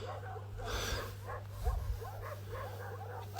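Frightened dogs at night in a cemetery, giving a run of short barks and whimpering yips at moderate distance over a steady low hum, with a few louder thumps in the middle.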